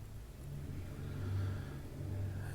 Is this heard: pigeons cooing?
no